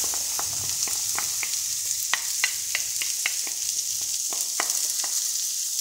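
Chopped onion fries in a pan for braised collard greens with eggs, giving a steady bright sizzle close up, broken by frequent sharp clicks and taps of a utensil against the pan.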